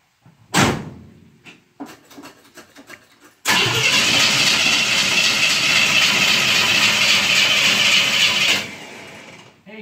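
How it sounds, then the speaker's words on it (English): A 1970 GMC C20 truck engine gives a few short starter-cranking bursts, then catches with a loud roar and runs at a steady high idle for about five seconds before suddenly dropping off, heard up close. "Start this truck."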